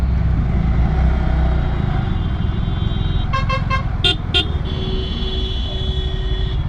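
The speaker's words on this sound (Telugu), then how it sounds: "ఒకేసారి లారీ ఇక్కడ సైడ్ వచ్చేసింది." A lorry passes close alongside on a mountain road toward Srinagar, heard as a loud continuous engine and road rumble, with a few sharp horn toots partway through.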